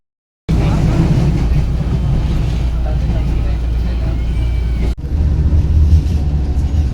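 Inside the last carriage of a moving train, a loud, steady low rumble fills the space, briefly dipping before resuming, with people talking faintly.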